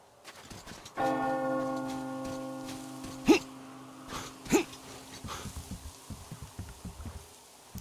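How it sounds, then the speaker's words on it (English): A church bell rings in the Volga area of the video game Metro Exodus, a sustained resonant toll that decays slowly while footsteps and light movement sounds patter alongside. "It's nice that they keep dinging the bell so I know where to go."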